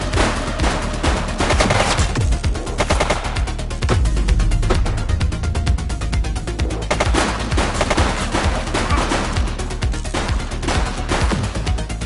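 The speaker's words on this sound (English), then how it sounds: "He's shooting!" Dense, continuous gunfire from someone shooting, loud rapid bursts layered over one another without pause, with deep booming thumps mixed in.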